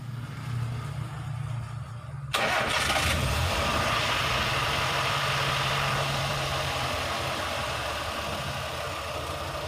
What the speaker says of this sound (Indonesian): lalu kita hidupkan lagi mesin.